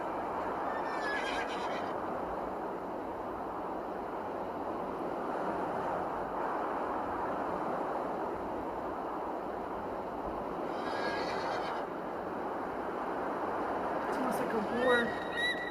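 A horse whinnies over steady broadband background noise, with short high calls near the start and middle and a sharper one near the end.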